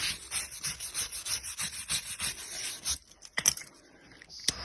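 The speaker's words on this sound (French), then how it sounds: "Coup de brosse métallique." A wire brush scrubs a shoe sole being prepared for gluing, giving rapid rhythmic rasping strokes at close range, then a few sharp scrapes and taps near the end.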